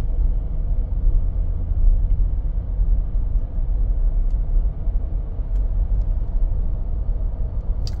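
Car driving slowly around a neighborhood block, a steady low engine and road rumble that stays even and close throughout with no talk.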